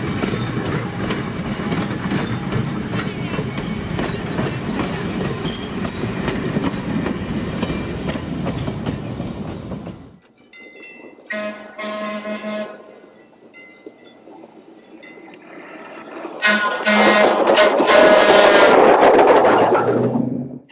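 A single steel interurban railcar of the Northwestern Pacific in Marin County rumbles and clatters loudly along the tracks, then fades to quiet with faint squeals before wheels and rumble swell up again nearby.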